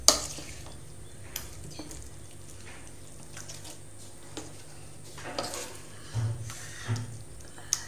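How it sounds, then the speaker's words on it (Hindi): Wheat flour veg omelette batter being mixed in a bowl, with soft scraping and occasional light clinks of a spoon, quiet and close, with no talking. "इसको हम ऐसे मिक्स कर देंगे, ये हमारी सारी सामग्री इसमें मिक्स हो गई है"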